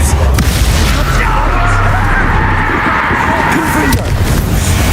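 Confringo blasting spells exploding in Hogwarts Legacy, with dense rumbling booms and bursts layered over continuous battle noise, loud and close, with a voice talking over the action.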